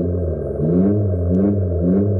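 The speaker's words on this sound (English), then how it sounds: "He's revving it." Abarth 500 Electric revving through piped-in exterior engine sound, a loud, close, steady synthetic rumble with rising and falling pitch sweeps over two seconds, no talking.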